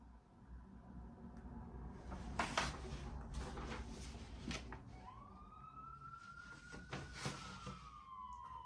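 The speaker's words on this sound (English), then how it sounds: "that's the sound of the police" A siren rises and holds a wailing tone over a busy, noisy background with scattered clatter, moderately loud.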